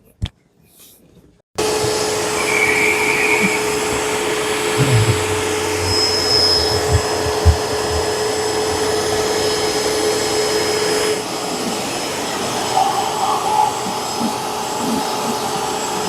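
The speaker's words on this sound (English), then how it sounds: "I don't think I've ever vacuumed before." A vacuum cleaner runs steadily and fairly loud during a car interior cleanup on a 1971 Super Beetle, a continuous drone after a brief start with a short quiet gap at the beginning.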